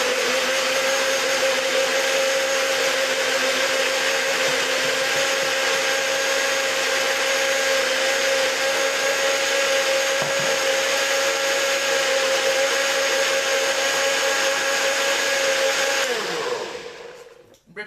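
A blender runs steadily on a beetroot breakfast blend, a loud continuous motor whine with a fixed pitch holding for about sixteen seconds before it spins down and stops abruptly at the end.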